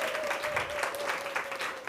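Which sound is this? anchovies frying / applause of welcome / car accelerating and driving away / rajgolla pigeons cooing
applause of welcome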